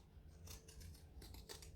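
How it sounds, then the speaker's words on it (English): Fiskars spring-loaded scissors snip through fabric curves in a run of short, crisp cuts, several quick close-up clicks in steady succession over a low background hum. "Get your snips and just do little snips every, you know, ½ inch, ¼ inch, 3/8 of an inch in between"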